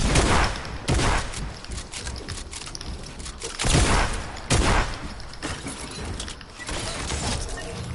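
Video game gunfire during a battle royale-style squads match, with repeated loud bursts and volleys pulsing through several seconds, close and dense, alongside other in-game effects.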